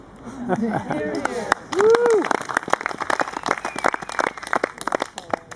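Applause at a nonviolent activists' reunion gathering honoring the host committee: a voice talks briefly, then a dense, steady burst of hand clapping from the audience builds and continues at close range to the end.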